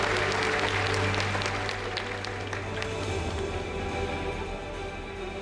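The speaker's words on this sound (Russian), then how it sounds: "И еще раз аплодисменты лучшим молодым умам современности." Sustained applause from a large audience honouring young scientists at the Moscow Government prize ceremony in the Kremlin: a dense, steady wash of clapping that holds at an even level for several seconds over a low hum, with no voices.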